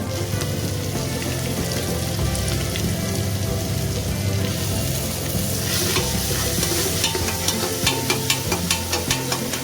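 Chopped onions sizzle steadily in a hot pan for a Punjabi-style pea curry while being stirred. Faint scraping and clicking of the utensil comes through, and the sound grows busier toward the end.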